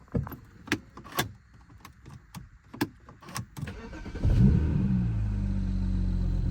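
A 2007 BMW 335i starts after a valve cover gasket replacement: a series of sharp clicks and clatters first, then the engine catches and settles into a loud, steady idle.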